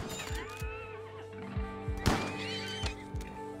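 A horse in the RimWorld colony-building game gives a long, wavering whinny, followed by repeated low thumps and a sharp crash, with no talk.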